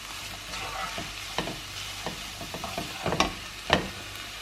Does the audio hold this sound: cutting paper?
no